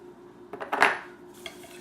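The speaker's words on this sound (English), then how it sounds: "Give it a good whisk." A whisk beats eggs, turkey sausage and spices for a breakfast casserole in a bowl, giving a brief cluster of close metallic clinks and scrapes against the side of the dish.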